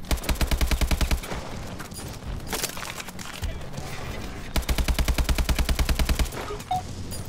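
Rapid automatic gunfire from Call of Duty: Advanced Warfare, two long sustained bursts of fast, evenly spaced shots, loud and close, with a break of scattered game sounds between them.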